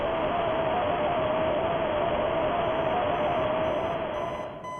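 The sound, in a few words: alarm clock ringing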